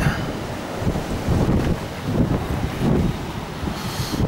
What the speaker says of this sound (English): it's blowing an absolute hoolie. Apologies if there's any wind noise, I'm under my shelter